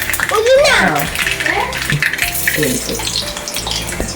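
Mustard seeds and urad dal frying in hot oil in a Kerala kitchen, a loud close crackling sizzle with watery hissing and clatter, mixed with voices talking over it.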